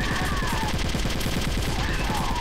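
Gunfire in Metal Gear Solid: The Twin Snakes, rapid automatic shots in a fast steady burst, loud and continuous throughout with no voices.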